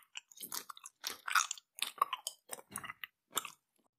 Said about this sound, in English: More gum chewing.